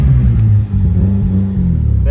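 A rotary-engined BMW E36 with a fresh tune holds a loud, droning engine note that swells with throttle blips, close up from inside the car, with a voice talking over it.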